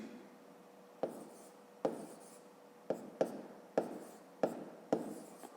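A pen taps and scratches on paper while numbers are written out for a fifth-grade math exercise, in about seven short, quiet strokes spaced through a hushed room.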